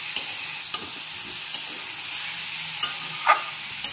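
A shukto-style vegetable curry of seeded banana, eggplant, bitter gourd and papaya fries in a pan with a soft steady sizzle, broken by a few sharp clicks of a stirring utensil against the pan.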